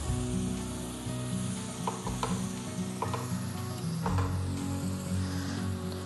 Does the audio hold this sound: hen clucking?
no